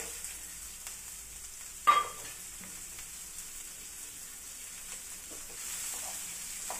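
Onion dropped into hot oil with mustard seeds and curry leaves, a steady close sizzle and frying crackle with a brief louder burst as the onion hits the pan.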